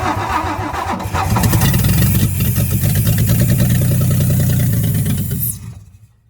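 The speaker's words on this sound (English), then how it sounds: "let's try again" An old 1961 Ford F500 truck engine, recently flushed of water in the carburetor, cranks and catches, then runs loudly with a rough, pulsing idle for several seconds before cutting off abruptly.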